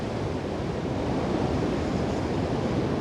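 Ocean surf rolls in as a steady, full wash of waves, loud and continuous with no voices or other sounds over it.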